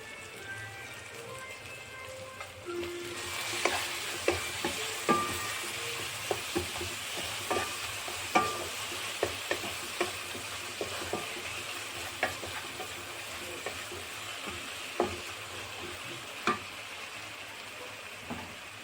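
Green chilli and spice masala sautéing in a hot pan, a steady close sizzle with frequent sharp clicks and scrapes from stirring, loud and continuous without speech.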